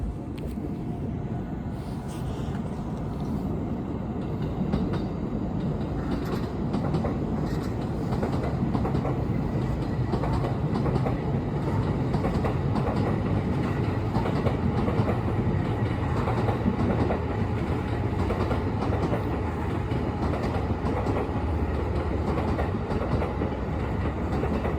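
Three trains rumble past at once on the tracks for the whole stretch, a continuous heavy roll with faint rhythmic clatter of wheels.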